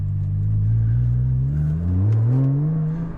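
A Porsche 718 GT4 with a Soul Performance race exhaust revs from inside the car, a loud deep engine note rising and falling through two climbing sweeps.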